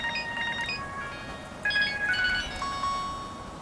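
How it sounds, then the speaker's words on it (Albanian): A telephone rings with a few short electronic tones in a repeating, warbling pattern. It sounds moderately near, against a quiet room background. "Telefoni po bie."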